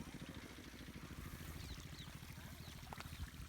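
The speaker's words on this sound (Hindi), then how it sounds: "तो आप देख सकते हैं ये पहले वाइट कलर की पाइप से पानी आ रहा है" Irrigation water pumped by an engine from a pond pours out of a white pipe into a field, a soft continuous gush and splash with a low rhythmic engine pulse underneath.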